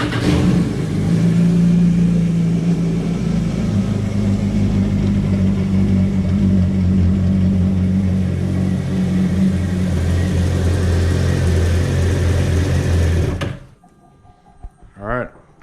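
A 2019 Yamaha FX HO personal watercraft engine with stock exhaust runs loud and rough for several seconds, then cuts off abruptly, followed by quieter clunks.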